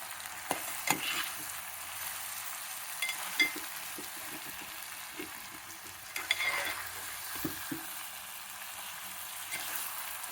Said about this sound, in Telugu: బెండకాయలు కూడా ఈ మసాలాలోనే వేగాలన్నమాట.